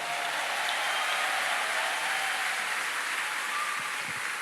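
A church congregation at an evening worship gathering applauding together, a dense, even wash of clapping sustained throughout at moderate distance, with no voices above it.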